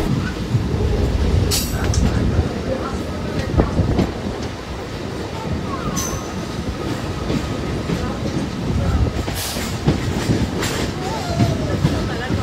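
A Howrah to Digha local train runs along the line, its loud rumble and wheel clatter steady throughout, with occasional squeals and sharp knocks and faint voices mixed in.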